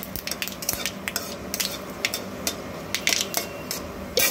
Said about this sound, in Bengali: আর লঙ্কাটা একটু লালচে করে ভেজে নেব।